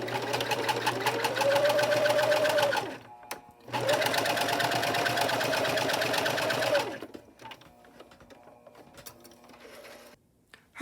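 A sewing machine stitches a quarter-inch seam on a small doll tote bag at a 2.5 stitch length, running in two steady, close bursts with a brief pause between, then falling quiet.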